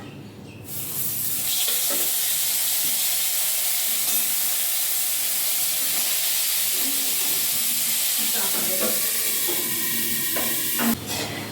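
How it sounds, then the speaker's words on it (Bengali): Potatoes fry in hot oil in a pan during home Bengali festive cooking, a loud, steady sizzling hiss throughout with occasional light stirring clinks toward the end. "আমি আলু ভেজে নেব।"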